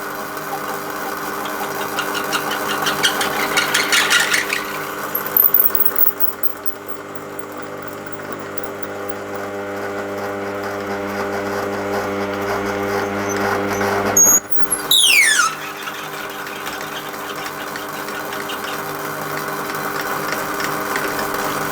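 Slow-turning lathe driving a 3/8 reamer through a drilled hole, a steady mechanical hum with rhythmic knocking and a few brief clanks and squeals partway through.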